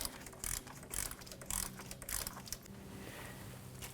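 Ratchet wrench fitted with a 7/8 deep socket turning counterclockwise on the reverse switch of a 1997-2004 Dodge Dakota, several quick rhythmic clicking bursts close by, then a quieter steady stretch.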